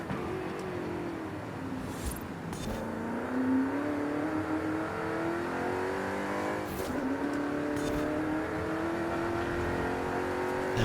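A Ford GT40 racing in Forza Horizon 5, its engine droning and climbing steadily in pitch through long gear pulls, with brief gear-change breaks; loud, close and continuous with no talking.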